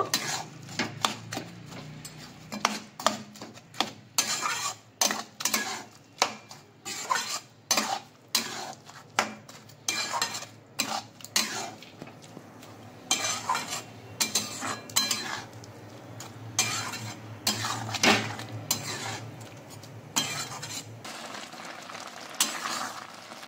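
A spatula stirs a sweet jaggery filling for patishapta in a pan, making a long run of rhythmic scraping and tapping strokes over a low sizzle, close and clear, with no speech.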